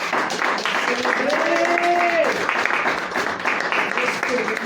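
Applause from a church congregation fills the room, a steady clapping wash with a voice or tone sounding over it, then tapering slightly near the end.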